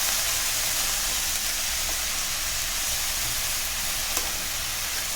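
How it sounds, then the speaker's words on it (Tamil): Spinach leaves sauté lightly in a hot pan, giving a steady, close sizzling hiss that holds evenly throughout with no talking. "லைட்டாக வதக்கி விடுங்க"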